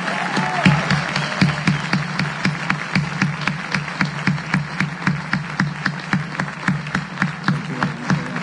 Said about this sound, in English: please give a round of applause to the RIT Outstanding Undergraduate Scholars